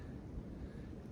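Bitter cold wind blowing outdoors during a winter deer hunt in snowy woods, a brief steady rush of low buffeting noise against the microphone with no voices.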